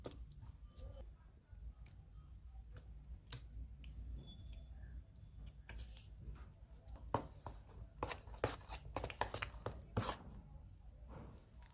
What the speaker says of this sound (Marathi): आता याला चांगलं मिक्स करून घ्यायचे।